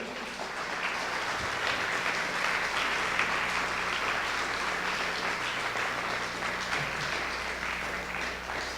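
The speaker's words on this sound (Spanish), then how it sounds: "Den un aplauso al Señor, aleluya" A church congregation applauding at a pastor's call during a sermon, with dense, sustained clapping held at a steady level throughout.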